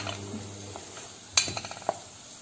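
Black pepper and garlic sauté in a pan, giving a faint, soft sizzle broken by a few sharp clinks of a utensil stirring against the metal.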